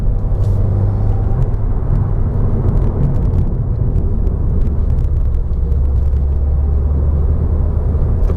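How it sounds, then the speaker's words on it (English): A turbocharged Subaru accelerates as its turbos spool up, a loud, steady engine drone and road rumble from inside the car, continuous and building without any voices. "it feels good once the turbos spool up."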